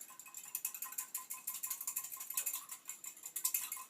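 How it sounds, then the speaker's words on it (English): A whisk beats vinaigrette dressing with added pepper in a bowl, giving a quick, steady clicking rattle of light strokes, faint and close, with no voices. "I'm going to just take my whisk"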